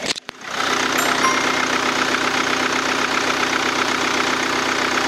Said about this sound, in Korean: 내려서 엔진 소리 한번 들어보도록 하겠습니다